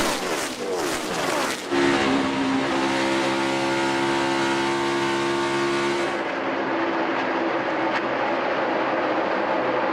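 NASCAR stock cars race at Chicagoland, a loud continuous roar of high-revving engines with a tonal whine as cars pass close by, fading slightly toward the end.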